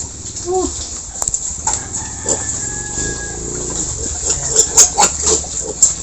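Piglets about a month old grunt and squeal in short close bursts on a pig farm, with brief sharp calls over a low background hum.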